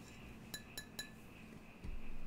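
A sturdy drinking glass from a Marvel Asgard Lootcrate clinks three times in quick succession while being handled, bright and fairly close against a quiet room, followed by a soft thump.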